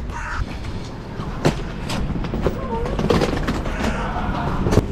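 Metro train passing near a station in Germany, a steady rumbling roar with clattering wheel noise and a few sharp knocks, fairly close and continuous throughout.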